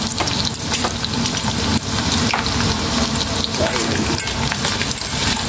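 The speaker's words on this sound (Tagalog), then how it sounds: "eto naman yung ipapry ko yung garlic" A whole head of garlic frying in a pan gives a loud, continuous sizzle and crackle, close by, with no talking.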